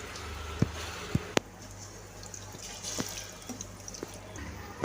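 Cooking water is drained off boiled lentils in a home kitchen, a faint trickle with a few sharp, separate drips scattered across a quiet background.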